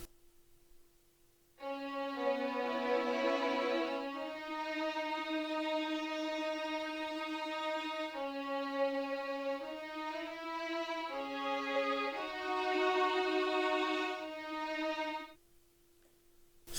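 A sampled solo violin from the Sonatina Orchestra library plays a smooth sustained melody doubled with layered sung vocals in a 70s soul style, steady and close for about fourteen seconds.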